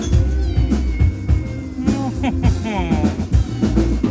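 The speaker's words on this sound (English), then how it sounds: "he's crying his little head off" A little kitten meows and cries repeatedly and loudly up close outdoors at a Corfu resort, with a person talking over and between the calls.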